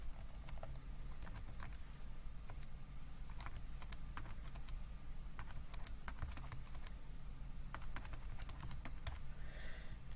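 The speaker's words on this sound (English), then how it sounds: "I'm going to type those numbers into my calculator" Quiet, scattered clicks of buttons being pressed on a calculator as numbers are entered, irregular taps over a low steady background hum, with no talking.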